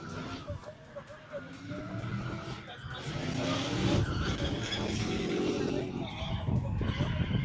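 Drift car, a Hyundai Genesis swapped to an LS3 V8, squealing its tires during a drift competition run; loud, sustained engine roar and tire screech with a voice speaking over it throughout.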